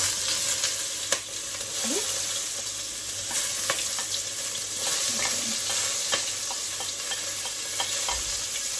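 Spring onions and pimento seeds frying in curry in a pot for Jamaican curry mutton: a continuous close sizzle with scattered crackles and occasional scraping stirs.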